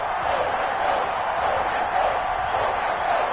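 A stadium crowd in an NFL football video game, Jets against Patriots, gives a continuous, broad roar that stays even and sustained throughout with no clear breaks.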